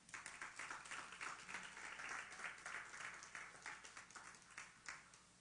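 A church congregation breaks into sustained, fairly dense applause that fills the room for several seconds before fading at the end, with no voices over it.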